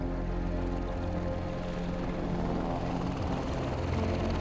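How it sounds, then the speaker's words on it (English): A helicopter flies over the Großglockner mountain, its steady rotor and engine drone loud and continuous throughout, with no voices. "With the help of the helicopter and his webcam"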